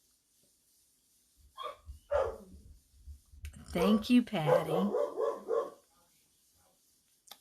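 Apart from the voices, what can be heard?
dog howling and barking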